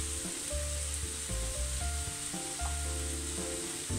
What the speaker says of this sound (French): vous allez casser simplement les œufs par-dessus.